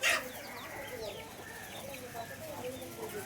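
Country chickens on a farm in Tuticorin cluck softly and intermittently nearby, with faint background noise and a brief sharp sound at the start.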